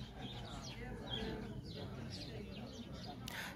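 Sparrows chirp from all around a pretty little garden, a scatter of short, bright tweets at moderate distance over steady outdoor background noise.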